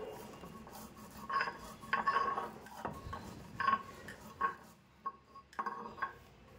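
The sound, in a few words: grinding roasted spices on a grinding stone (shil-nora)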